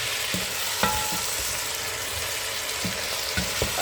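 Ingredients stirred and fried in a pan with onions and tomatoes for a white cabbage and peanut dish, a dense continuous sizzle broken by several sharp spoon knocks and scrapes, close and loud, with no voices.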